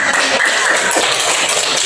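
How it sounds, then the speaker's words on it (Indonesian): Students in a classroom counselling lesson clap together for classmates, a dense, steady patter of many hands filling the room without a clear break. "Beri tepuk tangan untuk semuanya"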